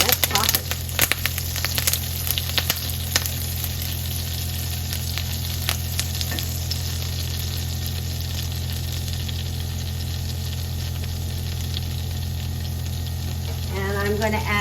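Kingfish roasts in butter with loud, steady sizzling and scattered sharp pops and crackles over a constant low hum, close up, ending with a brief clatter.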